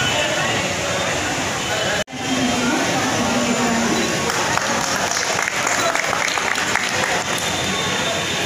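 A hall audience applauds in honour of the mayor of Prayagraj at a yoga event, dense continuous clapping that breaks off for a moment, then resumes just as strongly and carries on to the end.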